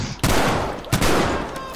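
Two bursts of rifle fire in the World War II shooter Battlefield V on the Rotterdam map in Conquest mode, sharp loud cracks with short decaying tails, one near the start and one about two-thirds of a second later.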